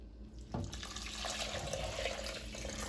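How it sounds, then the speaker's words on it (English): Chicken broth poured into a soup pot for copycat Olive Garden chicken gnocchi soup, a steady liquid pour that starts abruptly and runs continuously at moderate level, close by, with no talking. "I'm going to go ahead and put in the broth"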